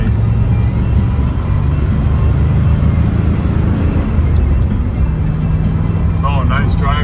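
A 1969 Chevrolet Chevelle SS with a four-speed manual drives along, its engine rumbling steadily and loudly throughout with shifts through the gears, close and continuous road noise underneath.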